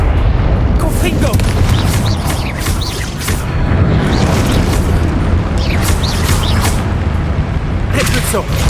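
Explosive blasting spell bursts in the Hogwarts Legacy video game, a fight to free a dragon from poachers, with repeated loud booming blasts and crackling impacts across the whole stretch amid dense battle noise; a voice also speaks.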